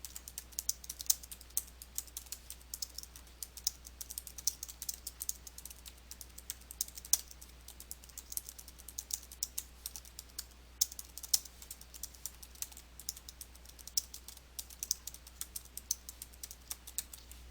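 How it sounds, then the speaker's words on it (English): Steady keystrokes on a computer keyboard while text is entered into a bounding box in Photoshop Elements 2020, a quick, irregular patter of light clicks over a constant low hum, close and fairly quiet, with no talking. "then type the text into the bounding box"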